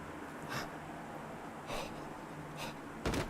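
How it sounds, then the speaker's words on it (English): Creepy breathing in the Silent Hill 3 video game comes as four separate rasping breaths spaced about a second apart, close and hushed above a low droning hum, the last one sharper and louder. "Why do I hear a creepy breather?"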